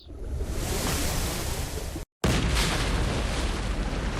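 A whale surfacing and swallowing swimmers in 100 Years: Life Simulator, a loud rushing surge of water that cuts out briefly near the middle and then resumes, no voices.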